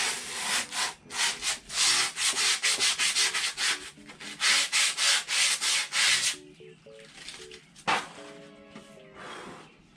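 Coarse scraping and rubbing as a scrap of excess grip tape is worked around the edge of a new skateboard deck, coming in quick repeated strokes for about six seconds, then a few softer, scattered rubs.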